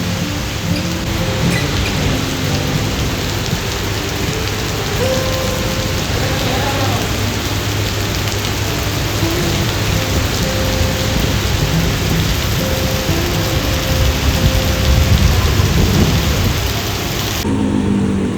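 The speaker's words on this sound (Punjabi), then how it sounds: "ਮੀਂਹ ਆਇਆ ਬੜੀ ਤੇਜ਼ ਹੀ" Heavy rain pours down loudly and without pause in Jandiala, Punjab, while deep thunder rolls underneath.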